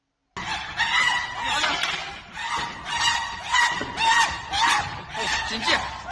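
A voice imitates a dog in a fighting howl, a run of repeated yelping, wailing cries that pulse loudly and close for several seconds.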